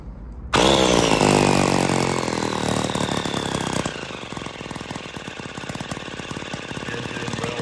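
An air-powered engine generator running on compressed air starts abruptly and runs loudly up close, a rapid mechanical chugging with a hiss of air that settles into a steady, slightly lower rhythmic putter.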